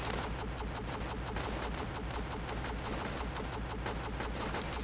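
Continuous rapid machine gun fire from the tower defense game Northend Tower Defense, a steady dense rattle of shots running throughout at even volume with no pauses.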